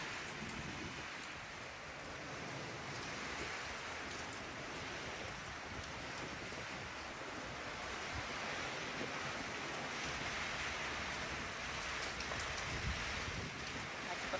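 Very heavy rain pouring down over a village during a storm, a constant dense hiss of rain hitting surfaces with a low rumble beneath, moderately distant and unbroken throughout.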